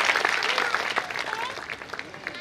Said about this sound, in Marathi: आपण जोरदार टाळ्या वाजवून नाना महाराजांचं या ठिकाणी स्वागत करूया